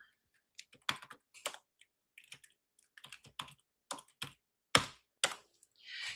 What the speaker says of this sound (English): Aggressive typing coming on, y'all.